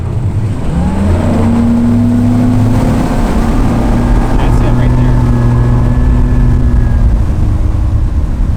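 A bass boat motor roars loudly and climbs in pitch as it accelerates onto plane with two men aboard, engine whine rising steadily while someone speaks briefly over it.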